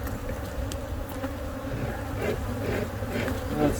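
Bees buzz around an open beehive while it is worked during preparation for pollination, a dense, steady close-up drone of many insects with individual bees passing near.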